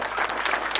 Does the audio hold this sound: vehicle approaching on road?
no